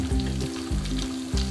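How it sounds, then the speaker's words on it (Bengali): Pieces of tandoori chicken fry in hot oil in a pan, giving a loud, close, continuous sizzle with a steady crackle and no voices. "এভাবেও বাকি পিসেসগুলো আমি ভেজে নিব"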